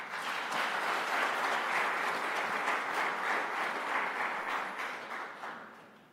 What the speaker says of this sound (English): I would like to have a big round of applause for you all to be here with us today.